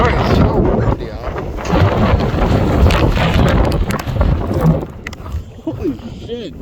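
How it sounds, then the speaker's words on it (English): Strong wind buffets the microphone with loud low rumbling, easing toward the end. "Sorry, it's so windy out."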